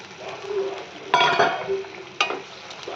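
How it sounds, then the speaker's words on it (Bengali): Whole fish slide into a pot of hard-boiling water where ridge gourd and potato are cooking, giving two sharp splashy plops over a steady bubbling simmer. "জলটা খুব ভালো করে ফুটে গেছে, এবারে দিয়ে দেবো আমি মাছগুলোকে"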